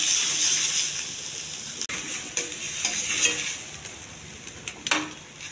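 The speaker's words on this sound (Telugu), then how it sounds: "కొద్దిగా కరివేపాకు, ఉల్లిపాయ, కొద్దిగా అల్లం వెల్లుల్లి పేస్ట్ అండి. పచ్చివాసన పోయే వరకు ఎదుర్చాలి." Curry leaves, onion and ginger-garlic paste frying in a pan make a bright, hissing sizzle that gradually settles, broken by a sharp utensil tap and occasional scraping stirs.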